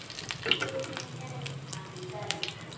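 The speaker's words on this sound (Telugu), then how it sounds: "ఇప్పుడైతే అదే ప్యాన్లో కొద్దిగా మినప్పప్పు మిర్చి ఆవాలు జీలకర్ర వేసేసి పోపు అయితే పెట్టేస్తున్నాం" Urad dal, chilli, mustard seeds and cumin fry in hot oil in a pan for a chutney tempering, giving a soft continuous sizzle with scattered sharp crackles and pops.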